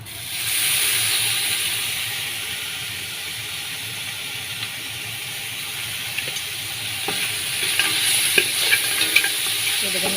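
Ginger-garlic paste frying in a little olive oil in a pan for mutton tomato rice, a loud, steady hissing sizzle with occasional light clicks of stirring later on.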